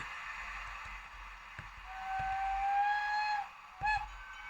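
A DB class E169 electric locomotive whistle sounds, a long steady tone followed by a shorter second blast, heard at moderate distance over low rumbling.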